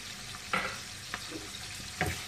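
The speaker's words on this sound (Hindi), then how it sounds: "इसके अंदर इसका लगेगा तड़का, ये लीव्स इसके अंदर चले जाएंगे इस तरीके से।" Curry leaves dropped into hot oil for a tadka, a soft steady sizzle with a few sharp crackling pops, close and alone.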